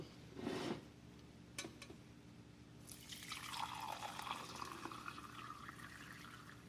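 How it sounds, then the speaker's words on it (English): Egg coffee mixture is strained through a strainer into a measuring cup, giving a faint, close trickle and drip of liquid that swells into a steady pour, with a few small clinks early on. "Use your strainer and your measuring cup to strain your mixture out."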